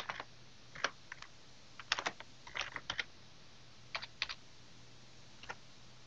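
Close, quiet computer keyboard typing in irregular clusters of quick keystrokes with short pauses between bursts, no talking.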